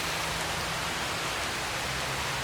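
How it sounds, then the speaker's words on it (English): Steady, loud rain falls outdoors without a break, a dense hiss with a low rumble beneath it and no voices. "Instead of turning back, I just keep going towards the rain."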